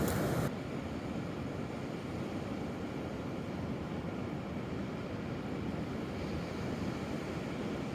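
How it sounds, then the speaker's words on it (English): Ocean waves crash against rocks on the Olympic National Park south coast, a loud, steady roar of surf and wind-blown spray that runs unbroken from start to finish with no voices. "waves coming in and crashing on these rocks"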